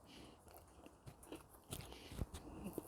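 Close-up bites and chewing of a shrimp and sausage cheese quesadilla seasoned with Old Bay and cooked on a Blackstone griddle, with a few soft crunchy bites and mouth sounds that grow louder toward the end, and no talking.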